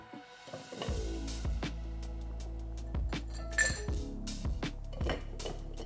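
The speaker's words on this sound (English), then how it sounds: "Next up, we'll add some ice." Ice cubes drop one after another into a glass for an Old Fashioned, giving a series of sharp, bright clinks and knocks at irregular intervals, close and clear with no speech.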